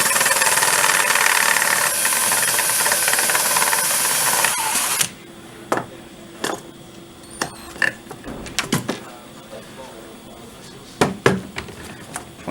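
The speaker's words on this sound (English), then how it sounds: "Align the drill with the device" A drill bores a hole into an O2NE+ oxygen device with a loud, steady whine for several seconds, then stops, leaving scattered close clicks and handling knocks.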